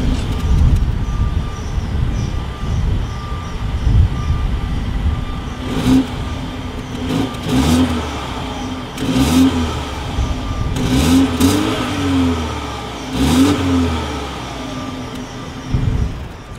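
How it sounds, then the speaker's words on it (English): A 2021 BMW X2 Sporty Edition M with chrome exhaust tips idles, then revs up in a series of sharp, separate blips, each rising and falling back, heard close to the exhaust with no talking. "As always, here is that exhaust clip."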